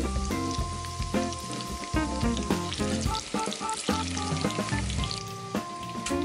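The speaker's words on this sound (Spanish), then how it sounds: "Con los ajos ya un poco fritos, incorporamos las especias" Garlic and spices frying in hot oil in a pan, giving a dense, continuous crackling sizzle that stays loud and close throughout, with no talking.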